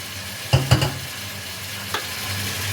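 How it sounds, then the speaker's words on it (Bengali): Mixed vegetables stir-frying in a pan for restaurant-style mixed fried rice: a steady low sizzle broken by a quick burst of clattering stirs early on and one more near the end, with no voices. "সবজিগুলো বেশ ভাজা ভাজা হয়ে গেছে"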